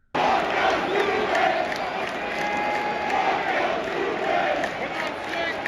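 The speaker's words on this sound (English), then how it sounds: "the crowd at Fenway repeatedly chanted 2 words at this once league-renowned star" A big Fenway Park baseball crowd chants loudly in unison at a visiting Houston Astros star, a dense roar of voices swelling and falling in repeated waves, starting abruptly and filling the whole stretch.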